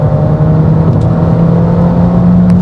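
A turbocharged Fiat 500 pulling hard in third gear with the throttle floored, giving a loud, steady engine drone with a strong humming tone heard from inside the car.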